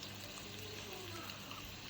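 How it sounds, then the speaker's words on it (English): Meat stock poured into a pot of seasoned jollof rice base, a steady, soft liquid wash lasting the whole moment at low, even volume with no talking. "we'll just go in with our meat stock"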